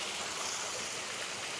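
A mountain stream swollen by recent rain pours down like a small waterfall near a remote mountain village, giving a steady, close, even rushing roar with no voices.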